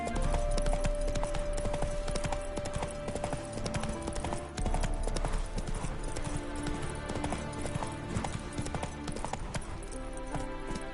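Roach, a horse in a video game, gallops in a fast, driving clip-clop of hooves that runs close and loud throughout, with game ambience beneath and no talking.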